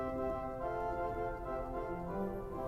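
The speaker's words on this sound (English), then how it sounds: "The violina violina forefoot by itself." A 1906 Felgemacher pipe organ plays its violina four-foot stop alone, a steady sustained chord of soft, string-toned pipes held throughout, with a slight change of notes near the end and no talking.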